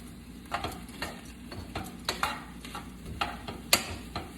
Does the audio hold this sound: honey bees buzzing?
no